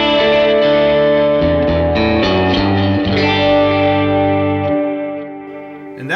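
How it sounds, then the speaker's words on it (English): A Universal Audio Galaxy tape echo pedal with reverb plays sustained guitar chords with repeating echoes and a lush wash of reverb, loud and continuous, gradually thinning and decaying toward the end. "the space echo had reverb in it"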